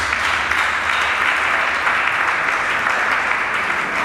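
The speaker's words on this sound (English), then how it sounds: "Let's give him a round of applause." A crowd at a university department's 50th anniversary event applauds steadily and loudly, dense clapping filling the whole stretch without pause.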